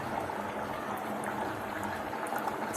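Mutton kuzhambu curry with pepper powder and coriander bubbles steadily in a pot, a dense, continuous simmering fizz heard close up with no talking.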